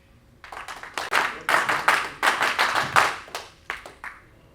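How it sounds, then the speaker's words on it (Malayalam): Kerala Strikers celebrity cricket team members clap together in a new rehearsed pattern at a press meet: a loud, close run of sharp, rhythmic hand claps in grouped bursts, with no talking. "അത് നമ്മുടെ കേരള സ്ട്രൈക്കേഴ്സിൻ്റെ ഒരു പുതിയ മോഡൽ ക്ലാപ്പ് പാറ്റേൺ ആണ്"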